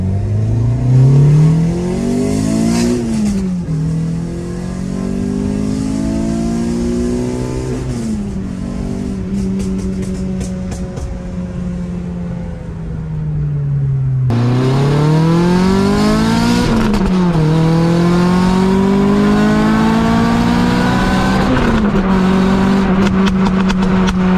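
A Clio 3 RS Cup engine revs up and down repeatedly, loud and close, with rising and falling pitch and a rough, crackling exhaust edge from a hole in the catalytic converter.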